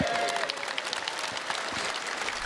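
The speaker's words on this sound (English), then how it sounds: "so let's give Sam a round of applause" Audience applause at a CitizenCon gaming convention presentation fills the hall, a steady dense clapping from a large crowd lasting throughout.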